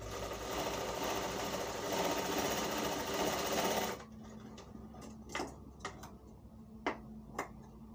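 An electric sewing machine stitches a gents' kalidar kurta with a steady, continuous whir for about four seconds, then stops; a few sharp clicks and taps from handling the fabric follow in the quieter stretch.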